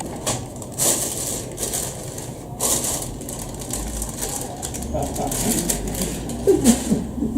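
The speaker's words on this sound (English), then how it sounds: "I release you from this crackly, indestructible plastic bag, Earth's enemy" A crackly plastic bag holding a sweet potato pie being opened at a poetry open mic, with loud bursts of crinkling and rustling handled up close, interspersed with quieter pauses.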